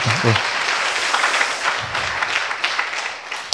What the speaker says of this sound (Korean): 여러분들이 격려의 박수 한번 해주시길 바랍니다